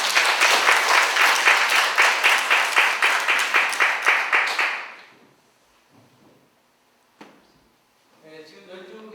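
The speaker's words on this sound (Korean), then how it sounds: "박수 한번" An audience at a lecture event breaks into sustained rhythmic applause for about four and a half seconds, loud and close, then fades to quiet room noise with a few scattered sounds and brief talk.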